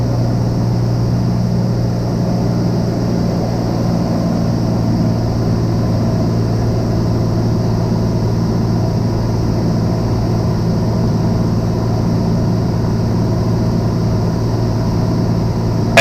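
A steady, loud drone from a Piper Comanche 250 engine in flight, held at constant RPM with an even hum and no talking.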